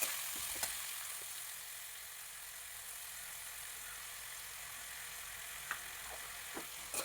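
Chopped tomatoes with turmeric and salt sautéing in a pan for Kerala-style tomato curry, giving a steady, fairly quiet hiss of sizzling with a few faint scrapes of the spoon.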